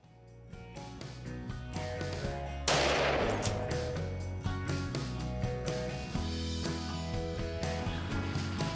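Rapid, sustained gunfire crackles without pause through woods during a wild hog hunt, loud and dense, with a sharper burst partway through.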